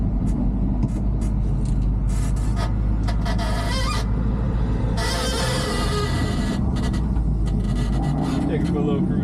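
A 1980 Chevrolet C20 Squarebody truck with a 4 inch lift drives up the road, its engine droning steadily with rushing road and wind noise that swells midway, and a voice talks over it.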